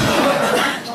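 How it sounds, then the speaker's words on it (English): A group coughs together on cue during a breathing exercise at a health product demonstration, a brief burst of several overlapping coughs that fades within a second. "Then cough."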